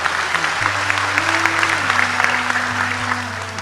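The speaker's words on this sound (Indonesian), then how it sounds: "Tepuk tangan untuk beliau, enggak apa-apa." Audience applause at a lively religious talk fills the whole stretch as a dense, steady wash of clapping, with a low tonal hum running beneath and faint voices mixed in.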